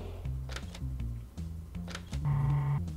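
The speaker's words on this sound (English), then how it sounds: "the cash register sound is the indicator" A cash register sound effect from the Philips CD-i game Hotel Mario plays as short electronic beeps and chimes, ending in a brighter sustained ring over the game's music.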